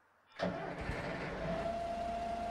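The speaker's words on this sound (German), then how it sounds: "Dann starten wir mal den Motor." A bus engine in the OMSI bus simulator game cranks and catches with a sudden start, then settles into a steady, low idle that hums on to the end.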